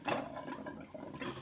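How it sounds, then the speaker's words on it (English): Water gushes and sputters from a tap in uneven bursts, a close, fairly quiet rushing sound with no voices. "we've got water coming through the tap."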